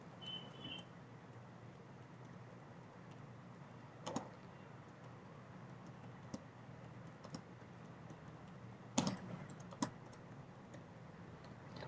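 Quiet typing on a computer keyboard, sparse soft keystrokes with a few sharper clicks scattered over a low steady room hiss, no speech.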